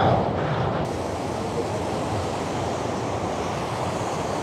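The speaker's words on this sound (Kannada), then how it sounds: "ಇಲ್ಲಂತೂ ಸಿಕ್ಕಾಪಟ್ಟೆ ನೀರು ಫ್ಲೋ ಇದೆ" A constant, broadband roar of rushing water, loud and unbroken throughout, from a powerful waterfall close by in Coorg.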